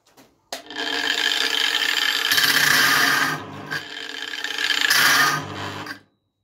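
A Parkside angle grinder at its lowest speed setting cuts with a harsh, gritty rasp in two sustained bursts, the second stronger, between short quieter gaps before stopping into silence.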